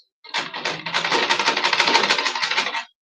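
A sewing machine stitches a pencil skirt waistband with a half-inch seam allowance beside a 1.5-inch band, running as one steady, close burst of rapid clattering for about two and a half seconds.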